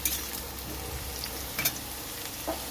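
Softened potato pieces fry gently in a pan over low gas for an eggplant, potato and prawn curry, giving a quiet, steady sizzle with a few small pops and crackles and no talking.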